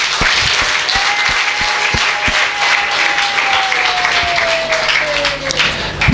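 A church congregation bursts into sustained applause, a dense wash of clapping from a large crowd with a voice faintly carrying over it.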